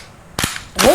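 A Beryl rifle firing two sharp, close shots about half a second apart, each a hard crack with a brief tail.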